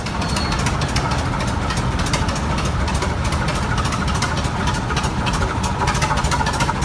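A 1911 Flower City antique tractor engine, model 4070, runs steadily in a Rollag parade, a loud, close, continuous rhythmic chugging with rapid knocking beats throughout.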